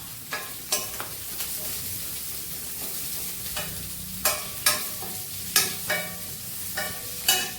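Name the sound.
chopped onions and green chillies frying in a pan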